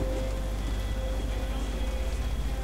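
Steady rain in the Jurassic Park video game, a dense, even patter close by and fairly loud throughout, with no voices.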